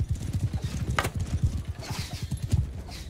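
Horses gallop in Mount and Blade 2 Bannerlord, a fast rhythmic drumming of hooves close by, with a brief whinny and no talk over it.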